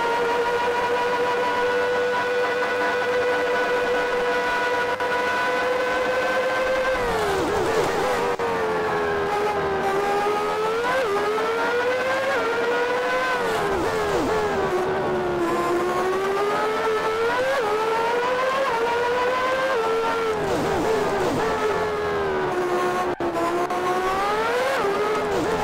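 A racing car engine in the Grand Prix 2 video game whines loudly and continuously, its pitch climbing and dropping sharply through repeated gear changes, with no voices.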